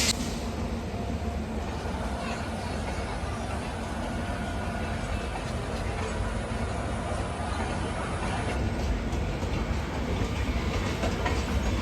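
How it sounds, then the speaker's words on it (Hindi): A Jan Shatabdi Express bound for Dehradun rolls past on the Ghaziabad–Delhi line, its steady loud rumble and rhythmic clickety-clack of wagons over rail joints filling the scene continuously up close. "जन शताब्दी एक्सप्रेस देहरादून।"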